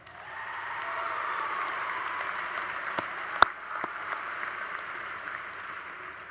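Audience applause at a spring university commencement ceremony fills the hall, a dense, steady wash of many hands clapping at moderate distance, with a few sharper claps standing out midway.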